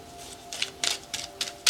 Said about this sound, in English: going to go ahead and shuffle my clarifying deck